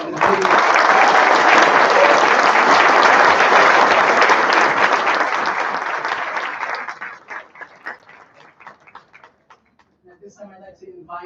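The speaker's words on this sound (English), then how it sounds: "And we can have a round of applause also for our faculty" A large audience applauds faculty at a Doctor of Physical Therapy white coat ceremony, dense clapping filling the room for several seconds before thinning into scattered claps and fading out, with a few voices near the end.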